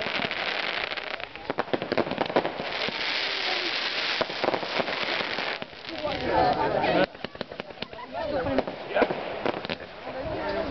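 A fireworks cake with a fan-shaped effect fires tube by tube in a long, dense run of crackling bursts and pops, while people talk over the steady barrage.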